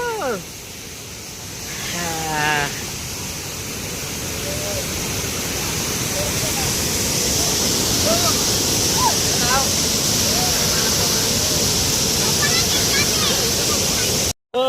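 Steady broadband rush of a waterfall near Hyderabad in Telangana, loud and constant throughout, with visitors talking and calling out over it.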